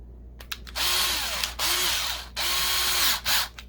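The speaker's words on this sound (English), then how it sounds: "let me get my drill set up" A power drill whirs in three short bursts while taking apart a Matchbox Ford Galaxie police car toy, spinning up and winding down between pauses, loud and close.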